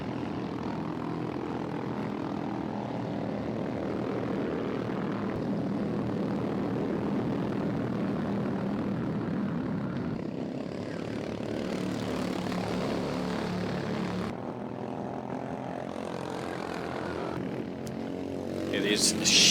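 Racing kart engines drone steadily through an endurance race as the leading karts pull away from the pack, a continuous buzzing roar that swells slightly near the end, running under a commentator's voice.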